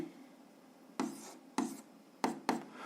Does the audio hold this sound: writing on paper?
yes